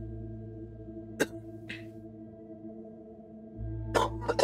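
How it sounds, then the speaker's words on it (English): A person coughs while playing Little Nightmares II, with two short sharp bursts near the start and a tighter cluster of coughs near the end, all close and over a steady low game hum. "I looked away because I needed to cough"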